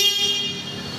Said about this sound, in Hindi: ऐसा कुछ इसमें हॉर्न मिलने वाला है